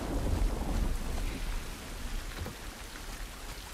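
Heavy rain in the video game The Last of Us Remake, a steady wash of falling water with low rumbling underneath, fairly faint and continuous without any voices.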